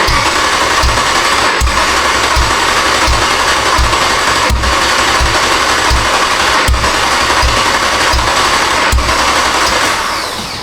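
A misfiring Jeep engine cranking over with the accelerator held to the floor, a loud steady whirring churn with regular rhythmic thumps about every half second, continuing unbroken for around ten seconds.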